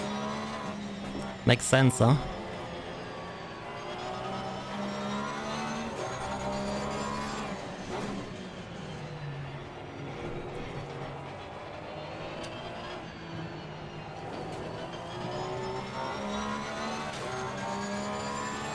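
Porsche GT3 R race car engine at the Nürburgring at night in the ACC racing game, a sustained loud engine drone with shifting pitch as it accelerates and shifts, alongside intermittent talk.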